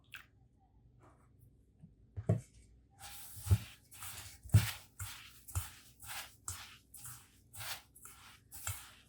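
Semolina dough is kneaded by hand while milk is sprinkled in, making soft rhythmic squishing presses about once a second, close and fairly quiet against a silent room.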